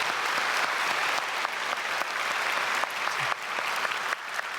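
A church congregation applauds during a Sunday worship service, a dense continuous clapping from a large crowd that fills the room at steady loudness.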